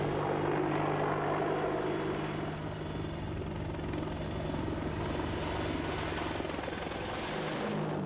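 An AH-64 Apache attack helicopter flies overhead, its rotor thumping and turbine whine holding steady and loud throughout, with no voices.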